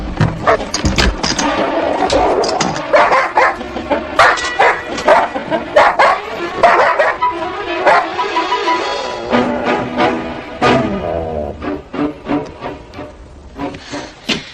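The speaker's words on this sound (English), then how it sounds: "it was a stray dog got pissed off at Frank's looks" A stray dog barks and yips repeatedly in uneven bursts, close and loud, with some whimpering mixed in, thinning to sparser, quieter barks toward the end.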